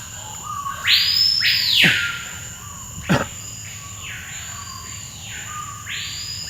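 A recorded lekking bird gives repeated swooping whistled calls, bright rising-and-falling notes with a couple of sharp downward sweeps, set over a steady insect-like hiss in an outdoor recording.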